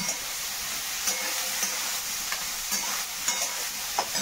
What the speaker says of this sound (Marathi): टमाटा कांदा मिरची भाजायला घेतले भाजून काढायचं